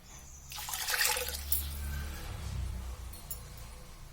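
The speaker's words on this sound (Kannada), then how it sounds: "ಈಗ 4 ಟಮ್ಲರ್ ಅಷ್ಟು ನೀರು ಸೇರಿಸ್ಕೊಳ್ಳೋಣ" Water is poured into a pot of dal khichdi for about three seconds, a broad, steady splashing gush that starts abruptly and tapers off. It is heard close up and alone, with no talk over it.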